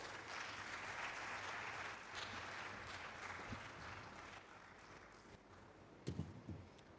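Steady applause from a conference audience at a national summit, a broad wash of clapping that slowly thins, with a few sharper claps and thumps toward the end.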